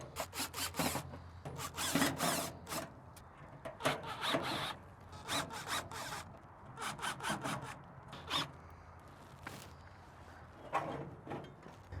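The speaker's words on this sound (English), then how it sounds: "Now we need to undo the screws on the bottom plate." Screws being undone on the bottom plate of a Camp Chef Woodwind Pro pellet grill hopper: close, irregular scraping and grinding bursts with short pauses, heard alone.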